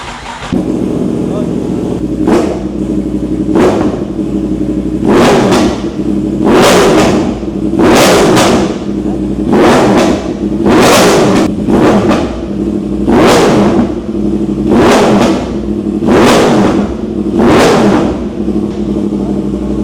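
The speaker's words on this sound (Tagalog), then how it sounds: "So sound check na natin, na-miss ko na yung tunog nito." A Yamaha R1 WGP motorcycle engine, newly fitted with a fresh battery, new oil and an air filter, revs loudly and repeatedly in a rhythmic series of sharp blips over a steady idle.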